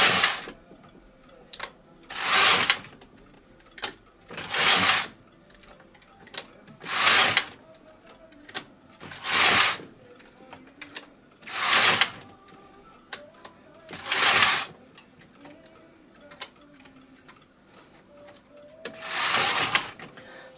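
A hand-operated knitting machine works the final stitches of a hat with a four point crown, its carriage sliding across the needle bed in repeated loud rattling sweeps roughly every two to two and a half seconds, with quiet pauses between.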